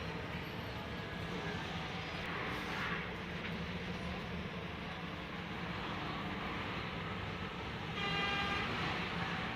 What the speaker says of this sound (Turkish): Trafik var trafik.